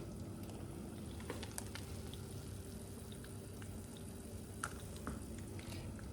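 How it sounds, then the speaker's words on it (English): Eggs fry in a pan with a faint, steady sizzle and occasional soft pops and crackles, heard alone at low volume. "So we're making eggs."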